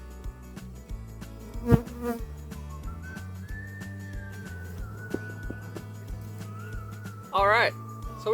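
Honey bees droning around an open hive during a routine inspection, a steady buzzing hum running under a person's talk, with a brief louder whine near the end.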